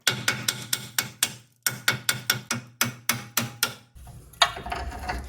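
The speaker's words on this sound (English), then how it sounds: "Next, most people will hammer on the mount." Sharp metallic hammer blows ring out on the steering knuckle mount of a 2005-2012 Chevrolet Colorado/GMC Canyon during tie rod replacement, a rapid, steady series of about fifteen strikes, followed by a short burst of rattling noise.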